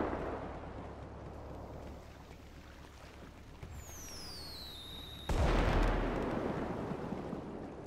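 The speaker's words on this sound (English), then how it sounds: "Uh-oh, and here goes the fireworks." Fireworks in a police-themed video game at a beach: a rumbling, muffled backdrop, then rising whistling streaks followed by a sudden loud boom with a booming tail.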